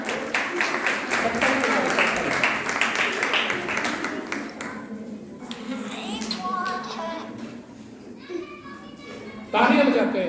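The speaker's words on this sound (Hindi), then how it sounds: "तालियों के साथ स्वागत।" Applause from a gathered crowd at an Arya Samaj computer center opening ceremony, steady dense clapping for several seconds mixed with voices and children's chatter, then fading into talk.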